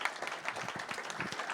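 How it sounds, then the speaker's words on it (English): Audience applause at a data and information quality symposium town hall, a short burst of moderate clapping from a room of people, fairly quiet and even. "let's give everyone in the room here applause"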